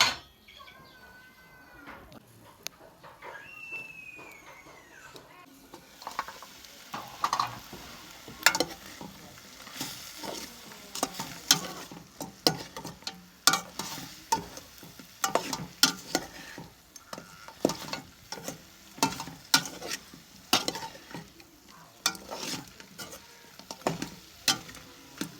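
Food being stir-fried in a pan, with repeated scraping and sizzling strokes in irregular bursts, fairly close, after a quieter opening with faint background sounds.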